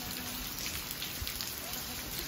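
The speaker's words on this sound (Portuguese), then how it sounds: "a chuvinha veio mesmo, olha aí" Soft, steady rain falling on a surface, a gentle continuous patter with no wind gusts, fairly quiet and even throughout.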